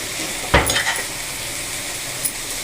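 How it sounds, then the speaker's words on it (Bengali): Ingredients for a greens mash fry in a pan, a steady sizzle broken by a sharp scrape and clink of the stirring utensil, then another light clink. "সমস্ত উপকরণ ভালো করে ওস্পার করে ভেজে নেব"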